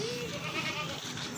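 A goat at a livestock sale gives a faint, wavering bleat that is partly buried under dense crowd noise and nearby chatter.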